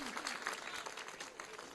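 Audience at a Hindi poetry recital (kavi sammelan) clapping, a dense, even patter of many hands filling the short stretch without a break.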